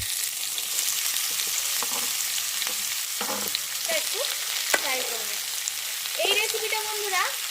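Ash gourd pieces frying in hot tempering oil with bay leaf, radhuni and panch phoron, a continuous crackling sizzle with scattered stirring scrapes; a voice speaks faintly in the background.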